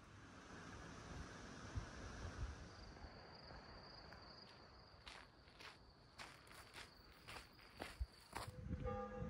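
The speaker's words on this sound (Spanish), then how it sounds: "Suenan las campanas" Village church bells ring in the distance in the French countryside along the Via Tolosana pilgrim route at dawn. The tolls come in a loose series and stay faint under footsteps, wind and insect chirping.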